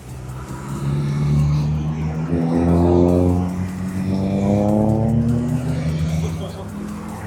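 A GT race car runs past at a slalom event in Chamblon, its engine note rising and falling loudly as it accelerates, with a voice talking over it.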